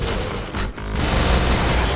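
Gunfire in the virtual reality game SUPERHOT VR: a close burst of shots with a heavy boom, and a short gap partway through before the firing resumes for the rest of the clip.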